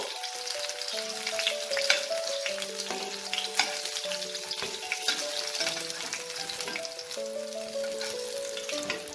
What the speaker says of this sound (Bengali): ঠিক এইভাবে আমি আরো মাছের পিসগুলোকে ভেজে নেব।